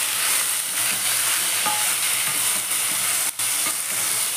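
Pumpkin and cabbage thoran being stirred in a pan over a steady, loud hiss of frying, with soft scraping strokes repeating throughout and a brief dip near the end.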